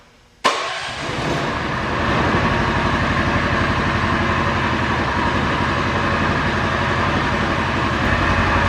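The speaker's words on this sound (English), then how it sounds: "So the motor's turning, obviously it's running" A UTV engine starts abruptly after a quiet moment, then runs steadily with a loud, even, rumbling idle that continues to the end.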